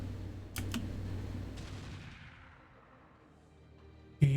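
A big cannon fires in the RogueTech mech game, giving a sharp booming blast followed by a long fading rumble, then another abrupt shot at the end.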